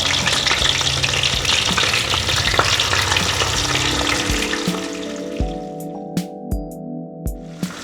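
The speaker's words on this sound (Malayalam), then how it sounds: "ചിക്കൻ ഡീപ്പ് ഫ്രൈ ചെയ്തെടുക്കണം" Chicken deep-frying in hot coconut oil with curry leaves, a loud, dense bubbling sizzle that thins out midway, leaving a quieter hiss under a few sharp metallic taps and clinks.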